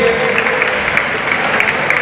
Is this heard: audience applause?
yes